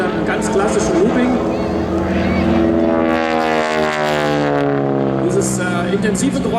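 North American T6 warbird performing a loop at an airshow, its propeller spinning fast with near-supersonic blade tips, giving a loud, steady harmonic engine and prop drone that swells midway, with a voice talking over it throughout.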